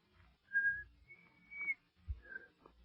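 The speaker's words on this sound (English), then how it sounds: "Oh, shucks, I never could whistle." A person whistles a few short, wavering notes in an old-time radio drama, thin and hesitant with gaps between them, over faint low rumbling background.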